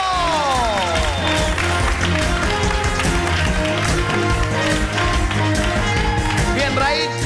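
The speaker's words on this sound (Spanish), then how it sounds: "¡Aplauso!" Studio audience applause and cheering on a televised game show as a contestant picks the game, dense steady clapping with whoops over music throughout.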